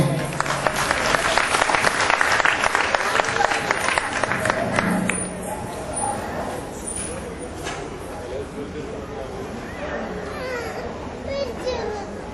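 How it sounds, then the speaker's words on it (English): Warm audience applause welcoming the MC at a Kerala Samajam Christmas gathering, loud clapping for about five seconds that fades into crowd chatter and children's voices. "Let's give a warm applause because she is going to be the MC for today"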